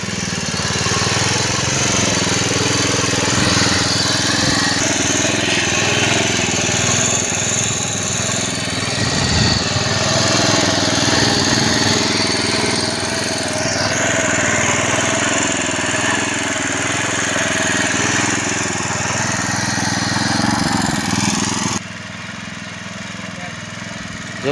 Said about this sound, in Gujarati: ભાઈ તમાકુ એરંડા ખરપવા માટેનું એક મશીન લાવેલ છે